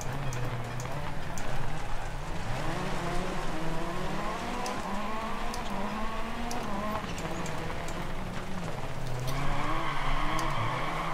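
Rain falls across a wet rallycross track in the racing game Dirt Rally, a continuous hiss layered over a rally car engine rising and falling through gears, steady and loud throughout.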